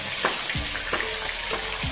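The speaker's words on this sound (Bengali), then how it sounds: "এখানে দেখো কি ফাটছে, এখানে হচ্ছে আর্ধেক মুড়োটা মাছের সঙ্গে নেই, সেখানে মুড়ো ভাজার সময় তো ফাটবেই" A katla fish head fries in oil, a steady close sizzle broken by several sharp spattering pops at roughly regular intervals, with no voices.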